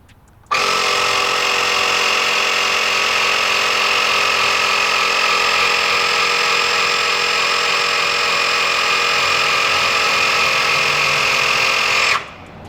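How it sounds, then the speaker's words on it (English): An onboard air compressor inflates a truck's air suspension bags to 40 PSI, a steady, loud mechanical whine running about twelve seconds that kicks on abruptly and cuts off just as sharply, with no talking. "Crank her up to 40 PSI on the fly."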